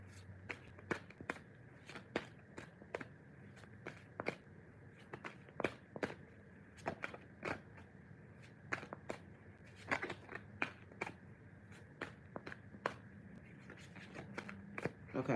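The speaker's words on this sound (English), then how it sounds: "So I'm going to keep shuffling." Oracle cards are shuffled by hand, giving repeated sharp riffling snaps and slaps in an irregular rhythm, close and fairly quiet against a soft room background.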